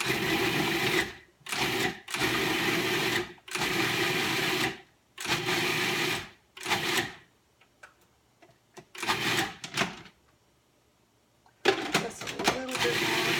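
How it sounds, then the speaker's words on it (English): A food processor chops fresh cranberries and a whole orange in repeated loud pulsing bursts, each a second or two long and separated by short gaps, then grinds in a longer stretch before a final burst. "But I think it's just easier to do it in the food processor."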